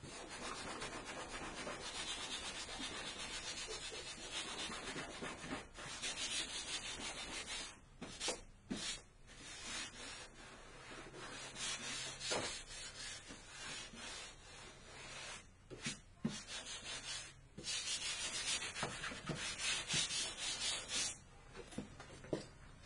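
Plasti Dip overspray is rubbed off a car's tail light area by hand, giving a close, continuous dry scrubbing and squeaking that comes in uneven strokes with short breaks, with no voices.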